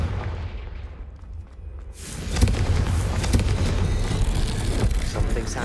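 A Confringo spell explosion in Hogwarts Legacy bursts in with a sudden loud, dense boom that rolls into sustained, heavy rumbling and crackle, following a quieter moment of game sound.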